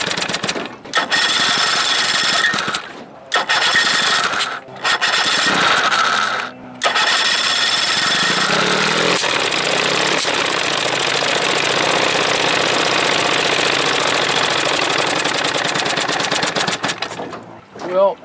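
A 1976 25 hp Evinrude outboard motor runs roughly with loud, rapid rattling firing that cuts out briefly several times early on, then runs continuously before stopping near the end.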